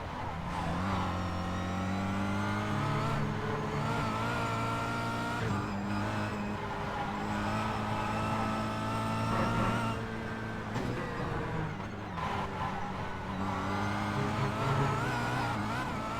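A Kia race car in a Kia Cup race at Road Atlanta, its engine droning loud and close from the onboard position, pitch rising and falling through gear changes and lifts across the whole run.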